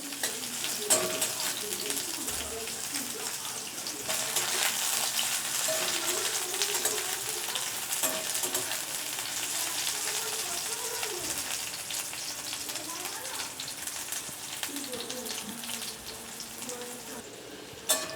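Pointed gourd (kakrol) fries in hot oil with a continuous, dense crackling sizzle that stays loud and even throughout, along with occasional faint clinks and a few low murmurs in the background.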